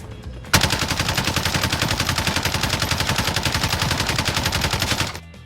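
LAPA SMG in the Warzone video game firing one long sustained burst of rapid, evenly spaced shots, loud and close, running about four and a half seconds with no talk.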